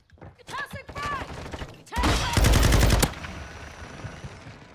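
Sakin MG38 light machine gun fire in Modern Warfare II: a short burst early on, then a loud, dense rapid-fire stretch in the middle that ends abruptly, with faint game sounds around it.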